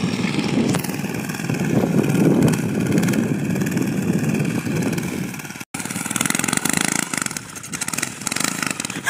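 A minibike engine starts and runs in its first outing of the year, a loud, steady buzzing motor drone that continues almost unbroken, with a brief cutout just before the six-second mark and then revs on.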